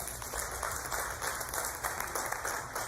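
A church congregation at Videira Flórida claps in praise during a Portuguese sermon, giving a dense, steady spread of applause that continues for a few seconds with no speech over it.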